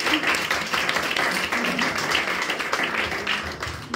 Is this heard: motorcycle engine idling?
no